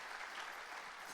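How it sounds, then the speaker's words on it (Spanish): Brief burst of congregation applause during a church sermon, steady dense clapping heard at a fairly low level for about a second. "Un aplauso."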